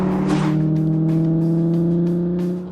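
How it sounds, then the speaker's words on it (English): Classic thoroughbred car engine in a driving game, a smooth, steady, creamy mechanical hum held at one pitch and fairly loud, easing off slightly at the very end with no talk. "That's not exhaust noise, that's an actual engine."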